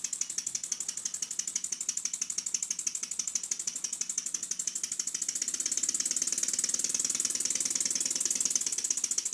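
A small PM Research model steam engine runs steadily in a workshop with a fast, even chuffing rhythm and a high mechanical whine, growing slightly louder midway.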